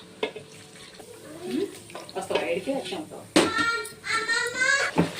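Milk pours and splashes into a pan for ash gourd halwa with a running, bubbling sound, close by, while someone talks over it.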